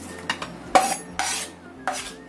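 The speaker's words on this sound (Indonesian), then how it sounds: "Ini kita taruh ke dalam wadah." Bean sprouts being dropped into a container, heard as a few loose clattering and rustling bursts of sprouts against the dish, close and fairly loud with no talk.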